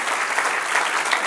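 Church congregation applauding during a Spanish-language sermon, a dense steady clapping that fills the whole short stretch at an even, close level.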